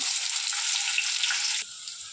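Chopped onion hits hot oil in a pan for egg chutney, a loud hissing sizzle that holds steady and then drops abruptly to a quieter frying fizz, with no talking.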